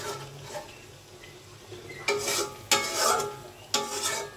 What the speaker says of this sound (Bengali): মাছটা আমি একটু নাড়াচাড়া করে দিচ্ছি।